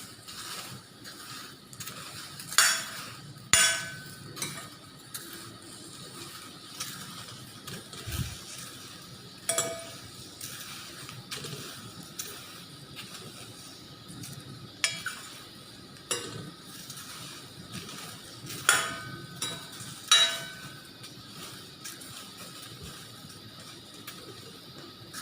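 Okra (ladyfingers) roasting in a pan, with a quiet sizzle under repeated scraping and clinking stir strokes against the pan at irregular intervals.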